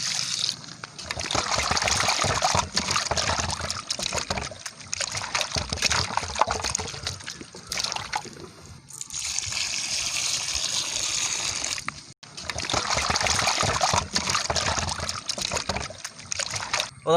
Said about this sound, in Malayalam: ആദ്യം നമുക്ക് ചിക്കൻ ഒന്ന് നന്നായിട്ട് കഴുകിയെടുക്കാം